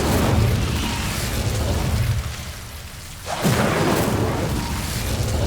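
Incendio fire spells in Hogwarts Legacy go off as heavy, booming blasts: one long rumbling burst fades out, then a second sharp blast hits and rolls on, loud and close.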